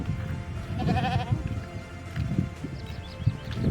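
Sheep bleating on a farm: a short wavering bleat rises near the middle over rustling and low farmyard noise, with a few fainter calls around it.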